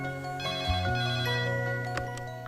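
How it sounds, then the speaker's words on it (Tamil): An incoming call sets a mobile phone ringing with a bright, melodic ringtone of repeating electronic notes that plays loudly and alone for a couple of seconds. "என் பையன் பாண்டி ஃபோன் பண்ணுவான்"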